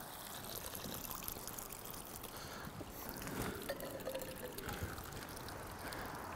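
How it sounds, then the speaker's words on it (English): Sludgy, cloudy water poured through a tripod survival water filter, giving a soft continuous trickle and splash at close range with no talking. "I'm gonna pour this through here."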